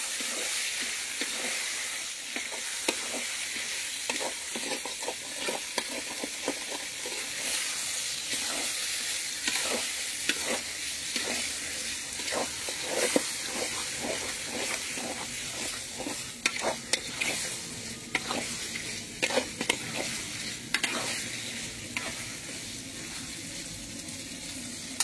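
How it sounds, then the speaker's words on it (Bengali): Chicken pieces stirred and fried with spices for a Bengali chicken curry: a loud, continuous sizzle with a dense run of scraping spatula strokes against the pan, close up and without speech. "মাংস দেওয়া হয়ে গেল, এবার এটাকে মশলার সাথে ভালো করে নেড়ে ছেড়ে নেব।"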